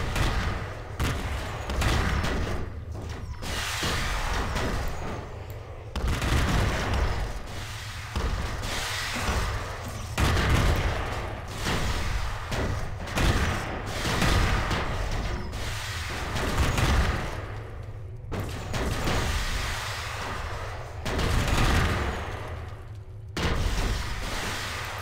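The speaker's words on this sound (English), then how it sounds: "Heavy plasma and heavy missiles." Heavy plasma and heavy missile fire in space-ship combat in the Stellar Tactics game, a dense, continuous barrage of booming blasts and rumbling impacts that swells and pulses in loud waves for the whole stretch, with no talking.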